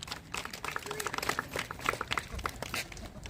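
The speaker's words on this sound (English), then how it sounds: "Guys, give them a round of applause." At a high school FFA hired-hand auction fundraiser, a crowd gives a round of applause: scattered, uneven hand claps, fairly faint and somewhat distant, mixed with voices talking.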